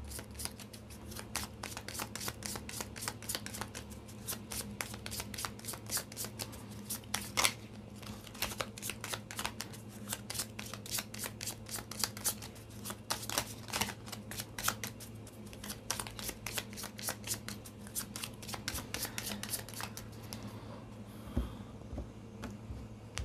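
A Lenormand (cigano) card deck is shuffled continuously for a tarot reading, a dense run of quick papery riffling clicks going on at an even, moderate level with no talk.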